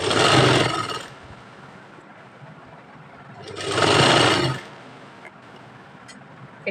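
Sewing machine stitching elastic into a pant waistband, running in two short bursts of fast whirring stitches separated by a quieter pause with faint handling sounds.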